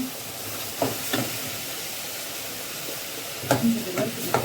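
Onions sauté in a pan with a soft, steady sizzle close by, punctuated by a few clinks and scrapes of stirring near the start and again toward the end.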